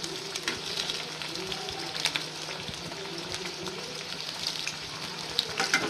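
Medu vada, urad dal fritters, fry in oil over a medium flame with a constant close bubbling sizzle and faint crackles.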